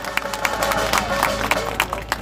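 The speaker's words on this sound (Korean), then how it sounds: "각자에게 박수를 한번 보내주시기 바랍니다" A rally crowd applauds, scattered claps forming a steady, moderately loud patter over a continuous murmur of voices, with no single speaker standing out.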